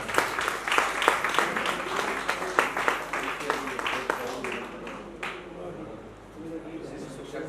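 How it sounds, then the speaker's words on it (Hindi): A crowd claps loudly and briskly at an evening event in Sirsa, sharp overlapping claps at close range that thin out and fade over several seconds, with faint murmuring underneath. "सभी तालियां बजाइए।"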